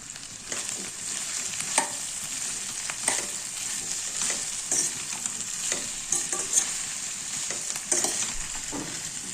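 Salted potato pieces fry in a pan while being stirred, a steady close sizzle with repeated soft scraping strokes throughout and no voices.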